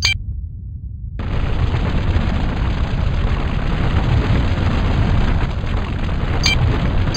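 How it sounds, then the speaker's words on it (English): Mobile artillery opens fire in the Star Wars: Force Commander strategy game: after a brief silent gap, a loud, sustained barrage of explosive booms and rumbling blasts rolls on steadily, with a sharp crack near the end. "Deploying the mobile artillery."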